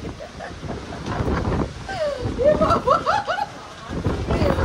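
Gusty wind and rain blow across an open outdoor spot, roaring steadily as a broad rush with rising and falling gusts, while voices talk faintly in the background.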